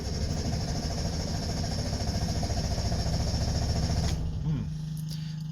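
A Subaru 360 two-stroke van, unused for six to eight months, is cold started: a loud, rapid, rhythmic cranking chatter runs for about four seconds, then cuts off, leaving a low steady hum.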